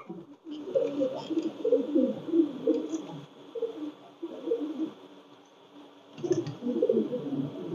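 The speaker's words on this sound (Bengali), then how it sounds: "এটা আমার সৌদি বিলাল লাইনের একটা নর কবুতর" Close, low cooing from a male Saudi Bilal line teddy pigeon comes in rolling bursts with short pauses, moderately loud and alone apart from faint background hiss.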